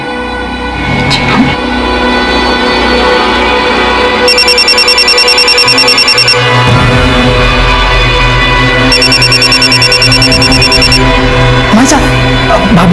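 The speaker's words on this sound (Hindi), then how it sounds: "भाभी का फोन बज रहा है।" A phone rings in repeated electronic bursts over background music and household noise, loud and close.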